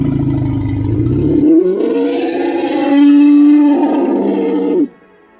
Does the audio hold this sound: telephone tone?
no